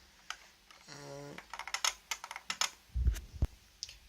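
Typing on a Codegen CG-101F keyboard with Futaba clicky switches gives a close, irregular run of sharp clicks, with a short whirring tone early on and a few heavier key thumps near the end.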